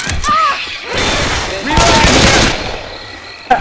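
Rapid bursts of automatic gunfire in Left 4 Dead 2 during a swamp level, loud and dense in two long volleys separated by brief pauses, with voices talking over the shooting.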